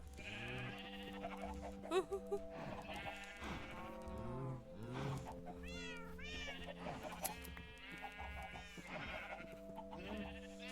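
Sheep in a video game bleat repeatedly over a steady droning background tone, several wavering cries spread across the stretch at moderate volume, with no talk over them.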